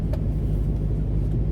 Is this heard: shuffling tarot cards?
no